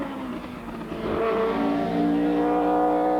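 An Opel Manta rally car engine roars steadily at speed on the 1992 Donegal International Rally, its pitch climbing gradually, loud and close throughout.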